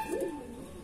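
A Madrasi pigeon of the Dasu, Tiger or Andhra breed gives a single short, close coo, low and throaty, with no voices over it.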